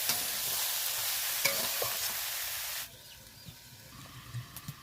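Drumstick flower chorchori, seasoned with salt, stirred in a pan: a steady frying hiss with a few scraping strokes, dropping noticeably quieter partway through and continuing as a softer sizzle with faint clicks.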